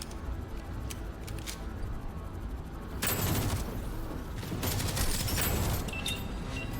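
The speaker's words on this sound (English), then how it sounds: "I like these little area of effect explosions that are popping off at times" Grenade area-of-effect explosions in the roguelite shooter game Deadzone: Rogue: a quiet stretch of faint mechanical clicks, then loud crackling bursts of blasts popping off in quick clusters, briefly easing and then erupting again.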